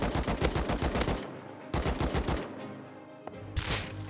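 AK rifle in a video game firing repeated rapid bursts, sharp and loud, broken by short pauses, then a lone shot and a final brief burst.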